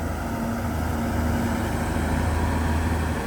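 A Komatsu PC200-7 excavator at a small new pit dig runs with a steady, loud, low diesel rumble, constant and close throughout with no talking.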